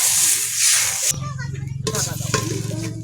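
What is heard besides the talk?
water added to sizzling pan of greens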